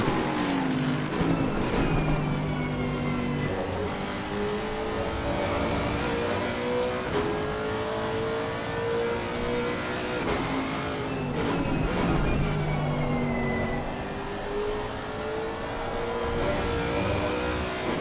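A Ferrari race car at Oulton Park runs loud across the start-finish line. The engine note holds high, dips and climbs again, with other race engines droning and passing nearby.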